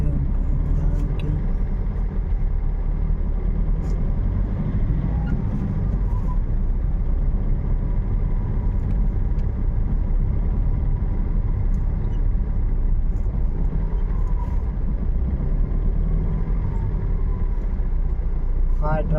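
Continuous road traffic with car engines rumbling and idling, a steady low drone that persists throughout, with voices talking over it.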